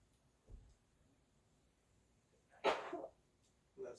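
Sneezes during a sneezing challenge in a quiet room: a faint soft sound, then one sharp, loud sneeze burst near the end and a shorter one after it, with no talking.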